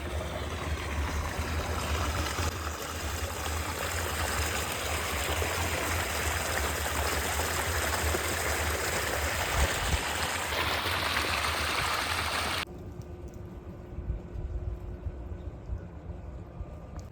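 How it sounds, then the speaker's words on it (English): Water pours steadily over a small spillway between ponds at St. Vincent Ponds wetland in Pennsylvania, a continuous broadband rush close by that drops away sharply near the end, leaving quieter outdoor ambience. "Here we're on a little spillway between the ponds."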